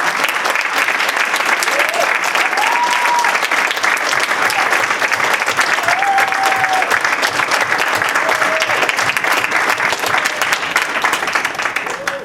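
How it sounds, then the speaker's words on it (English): An audience bursts into sustained applause for two speakers, dense clapping filling the room at a steady level throughout, with a few faint voices and whistle-like calls rising above it. "let's have a round of applause for our two amazing speakers."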